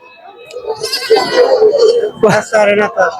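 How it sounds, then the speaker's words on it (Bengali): Several local goats, including young kids, bleat loudly nearby in short wavering calls at a goat market in Bangladesh, with people talking in the background. "ছোট বড় সব ধরনের ছাগল মিলিয়ে রয়েছে এই বাজারে"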